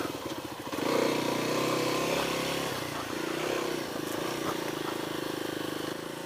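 Kawasaki KLX300 motorcycle engine ridden off road, a steady close engine drone that swells and holds at a moderate pitch, with some wind noise and no talk.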